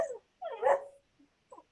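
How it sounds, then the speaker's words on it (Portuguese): A mother's female dog barks a few times up close, with short yips and whimpers trailing after the main bark and no talk over it. "essa é a cachorra da minha mãe"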